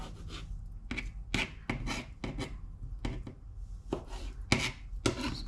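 Knife chopping cooked lobster meat into small bites on a board, a quiet series of irregular crisp taps and scrapes, close and fairly soft, with no talking.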